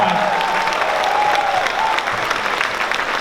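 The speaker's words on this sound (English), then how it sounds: "give yourselves a round of applause" Loud sustained applause and crowd noise from a large convention audience at LTX 2019, a dense roar of clapping with faint tonal whoops or shouts riding on top, continuing without pause.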